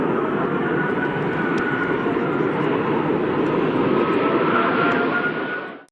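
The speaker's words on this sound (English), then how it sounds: "It's definitely rare to get to see an Airbus A380 go around." An Airbus A380 roars overhead during a go-around, its engines giving a loud, steady, broad jet rumble that holds close for several seconds before cutting off sharply.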